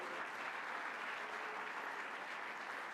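Steady, dense applause from an audience at a New York government announcement event rolls on evenly without a break, fairly distant and uniform in loudness.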